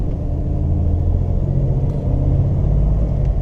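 A manual stick-shift car pulls away in first gear. A close, steady low engine rumble holds throughout, heard from inside the cabin, with no talk.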